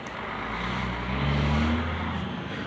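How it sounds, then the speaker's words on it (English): Road traffic beside a well-kept rural cemetery in Dover, Ohio, a car passing by as a steady low rumble that swells in the middle and fades, with no talk. "I do apologize about the road noise"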